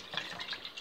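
A small amount of cold water poured into a preparation of bilo-bilo, a soft, close trickle and drip lasting under a second with no talking.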